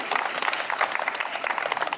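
Residents applaud at the closing ceremony of an apartment-complex tennis class, a dense patter of many hands clapping at once, moderately soft and steady for a couple of seconds.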